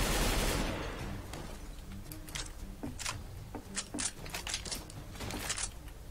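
Rapid bursts of rifle fire crack out in a CS:GO competitive match, a string of sharp close shots in uneven clusters over a steady background hiss, with no talk.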